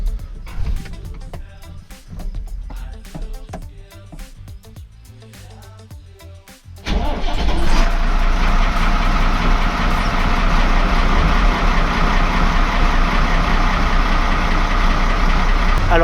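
Fiat 115-90 tractor with an oil-level warning light on: clattering sounds lead to the diesel engine starting abruptly, then settling into a loud, steady idle close by.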